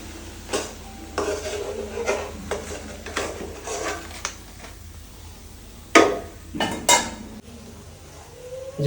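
Puffed rice (muri) is mixed with fish by hand in a bowl. It makes a series of soft, rhythmic scraping and rustling strokes, with a couple of sharper clinks near the end and no talk.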